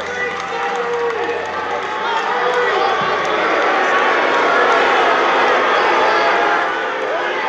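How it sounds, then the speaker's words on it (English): A large audience at a conference chants over and over in a dense, loud, sustained roar of many voices that barely lets up from start to finish. "So the crowd's chanting, bring him back, bring him back."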